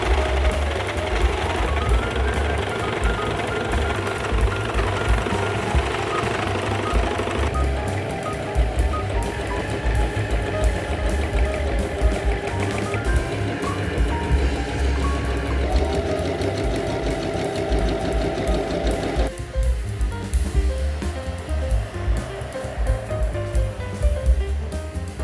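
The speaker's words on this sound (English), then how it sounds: "I prefer the serger method for this project" Serger sewing machine running steadily and loudly while finishing the edges of sturdy, heavy denim seams for a dress, a continuous mechanical whir with slight shifts in tone and no talking.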